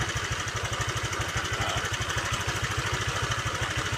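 A Honda Vario 125 scooter engine idles around 1500 RPM with a steady, rapid, even pulsing putter, close and constant for the whole stretch with no voices.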